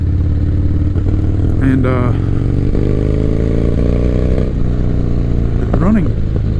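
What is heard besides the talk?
1985 Harley Davidson FXR motorcycle engine while cruising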